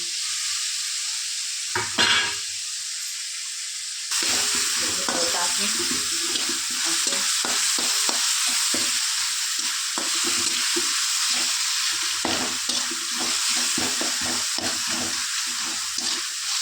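Tomatoes sizzle steadily in a hot pan, with frequent stirring scrapes and clatters over the frying hiss; a brief knock comes before it starts.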